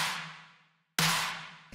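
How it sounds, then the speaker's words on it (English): Two layered clap-snare drum machine hits, each a bright noisy burst over a low tonal body that decays steadily, the second followed by a quick small hit near the end, in a dark lo-fi electronic style. "the next thing we have here is the clap slash snare, which sounds like this"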